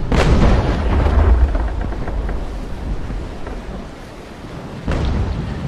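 Naval cannons boom in a sailing brig battle video game on calm seas, heavy deep blasts rumbling together with a second thud near the end, and no talking.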